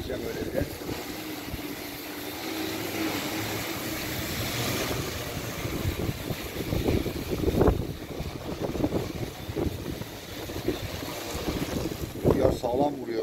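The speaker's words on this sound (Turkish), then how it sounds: "Rüzgar aşırı arttı." Strong gusting wind buffets the microphone during a risky test flight of a long-endurance multicopter drone, a steady loud roar with sharper surges, under a voice speaking.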